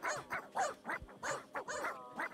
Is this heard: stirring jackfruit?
no